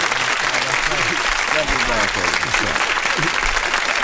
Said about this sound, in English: you got to give a round of applause for the towel